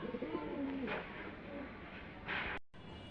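Pigeons coo close by, with a few soft, low, rolling calls over a breathy background hush; the sound cuts off briefly near the end.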